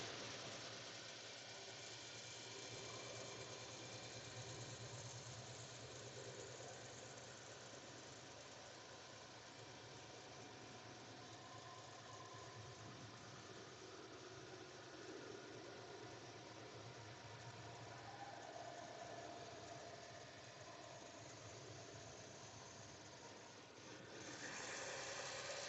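A car cruising on a smooth road in Louisiana or Mississippi, with a continuous low engine hum and road rumble from inside the cabin, steady throughout.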